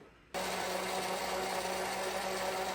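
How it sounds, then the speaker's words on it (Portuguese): A blender mixing batter switches on abruptly and whirs at a steady, loud, high pitch, running continuously close by. "a gente vai levar isso aqui para bater no liquidificador."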